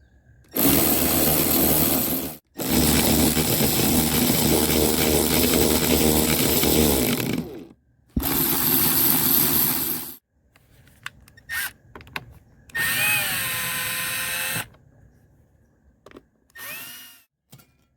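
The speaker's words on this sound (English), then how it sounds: "we have to take off the two 10mm bolts here, take off those, screw up in here, these screws here" A power tool removes 10mm bolts and screws on a Jeep XJ, running in three long loud whirring bursts and then several short spurts with pauses between them.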